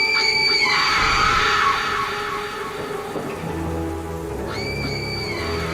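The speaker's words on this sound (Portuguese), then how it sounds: "ela gritava sem parar" A woman's screams as a horror story sound effect: two drawn-out, piercing cries, one at the start and one near the end. Between them sits a dense hissing bed like rain, with low rumbling underneath and no speech.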